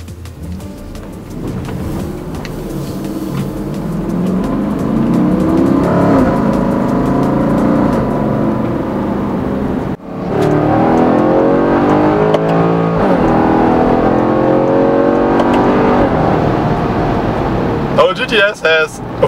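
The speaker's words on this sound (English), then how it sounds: "when you put it in sport mode, it really sounds quite nice at high RPMs" A 2014 Porsche Cayenne GTS with a 4.8-liter naturally aspirated V8 in sport mode revs hard to high RPM, loud and close. Rising and falling engine sweeps come with a short break midway and someone talking over it.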